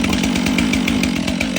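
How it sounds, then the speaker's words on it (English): A Stihl 500i chainsaw fires up and runs close by, its loud buzzing engine steady with a rapid pulsing rhythm throughout. "So now the chain brake's on, what we're going to do is give it a start."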